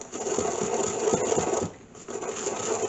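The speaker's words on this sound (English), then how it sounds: "you just grind it with a nice circular motion until you get it to the consistency you want" A pestle works roasted cumin seeds in a mortar with a steady, gritty grinding rasp in a continuous circular rhythm. It breaks briefly near the middle and stays moderately close, with no voices.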